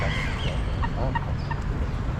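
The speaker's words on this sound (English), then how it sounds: "I've never seen such huge ducks before." Large ducks on a river beach in Düsseldorf give a few short, honking calls over steady outdoor background noise.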